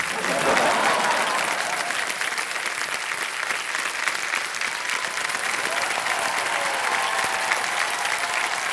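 A television quiz show studio audience applauds contestant Rajni with loud, sustained, dense clapping and some crowd cheering, filling the room evenly without a break.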